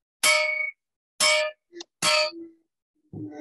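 A substitute bell rung to close a Rotary Club meeting strikes three bright metallic clangs at steady intervals, each ringing briefly before a softer knock, and it stands alone with no talk over it.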